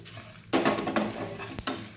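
Cumin seeds sputtering in a hot frying pan with fried chilli, garlic and bay leaf, a sudden close sizzle that bursts in and keeps crackling, with a brief scrape of a stirring spoon.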